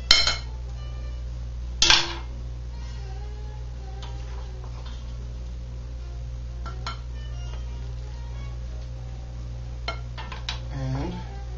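Utensils clink against a bowl as pasta is served, with a couple of sharp metallic knocks at the start and scattered light scrapes and taps over a steady low hum.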